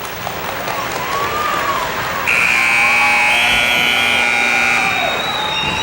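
At a wrestling match, the end-of-period buzzer blares loud and steady over a roaring crowd in a gym, holding for several seconds while spectators cheer and shout beneath it.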